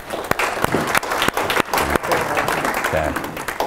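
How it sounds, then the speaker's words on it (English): An audience at a seminar applauds with loose, uneven clapping, several sharp individual claps standing out above a thinner crowd wash, with some voices mixed in. "Everybody give her a round of applause"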